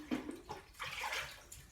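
Water running and splashing as a sieve and cooking pot are rinsed out at a sink, with irregular bursts of gushing and sloshing at close range.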